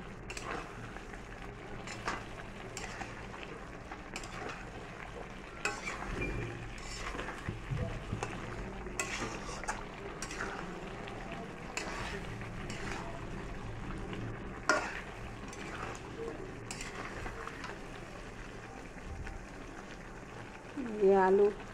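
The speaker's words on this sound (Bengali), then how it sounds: "লঙ্কার গুঁড়ো, দিয়ে এটাকে কষানো হবে।" Potatoes being stir-fried with chili powder in a pan, a steady low sizzle with scraping and stirring clatter throughout, running under talk.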